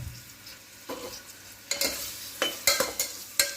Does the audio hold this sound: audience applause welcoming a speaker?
no